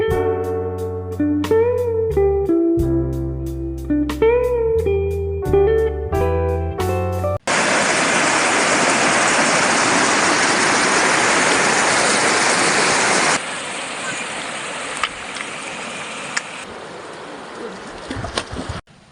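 River water of the Mayantoc River in Tarlac rushes over rocks beside a dam, a loud, steady broadband wash that follows a short burst of melodic music and fills the rest of the clip.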